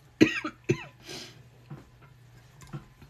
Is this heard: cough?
yes